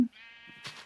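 A single sheep in the Minecraft video game gives one short, clear bleat, faint and alone against silence.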